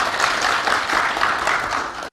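Dense audience applause at a gathering of Kalimantan people, a steady loud wash of many hands clapping that cuts off abruptly at the end.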